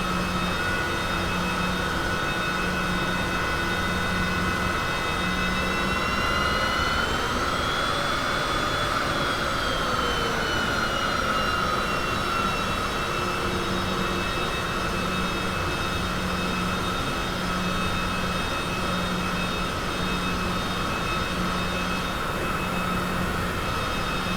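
Steady aircraft engine drone from a light plane taxiing slowly at an airport near the terminal, a continuous whine with tonal harmonics that swell and shift in pitch midway, loud and close throughout with no talk.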